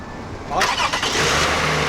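A car engine cranks and catches, a burst of starter noise turning into a running engine, close by with a voice faintly nearby.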